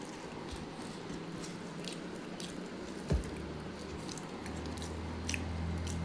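Soft, close-up wet chewing and squishing of rice mixed with eggplant, quiet irregular mouth sounds with small clicks, over a faint background hum.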